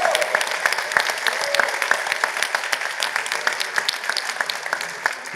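An audience at a PHP conference's closing keynote applauds, a steady mid-level patter of many hands clapping continuously throughout with no talk over it.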